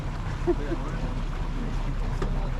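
A boat motor drones low and steady on the water off Costa Rica, with wind buffeting the microphone and brief voices over it.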